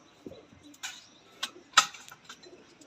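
Breeding pairs of pigeons coo softly in a loft, a few faint scattered calls with light clicks and rustles between them.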